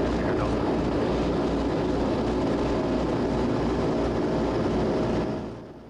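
Raptor prototype aircraft taxiing on the ground, a loud, steady broadband engine roar held close and constant before easing off slightly at the end, with no talk.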